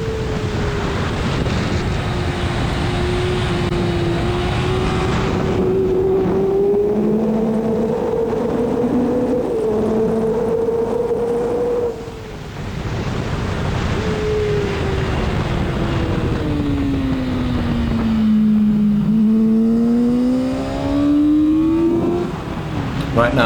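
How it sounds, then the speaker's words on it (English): A 125cc motorbike lapping the Hockenheim circuit during an open track session, its engine droning loudly with pitch rising and falling through gear changes and corners, with a rider's voice talking over it. "Right now in front of me you can see one of the 125cc motorbikes."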